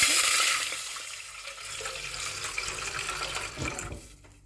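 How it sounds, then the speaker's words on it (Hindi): Hot water poured over soaking rice in a home kitchen, a splashing, gushing pour that is loudest at first, then settles into a softer trickle before fading out. "एबे मु इठी गरम पानी टिके ढाई दउछि"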